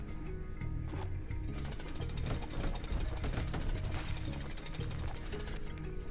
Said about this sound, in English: Now we need the jackhammer.